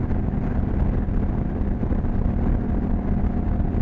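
A Honda Rebel 1100 motorcycle in sixth gear at about 78 mph, throttle opened, producing a steady, loud engine drone mixed with heavy wind rush throughout.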